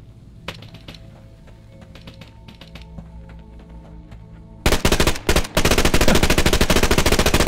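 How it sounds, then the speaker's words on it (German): Gunfire in the video game Fear the Wolves, opening with scattered single shots over a quiet background, then bursting into loud, rapid automatic fire with a couple of short breaks. "Sagte er und wird beschossen."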